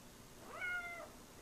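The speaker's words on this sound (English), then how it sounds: "The cat!" A house cat gives a single soft, drawn-out meow indoors, faint against a quiet background, heard on its own with no talk.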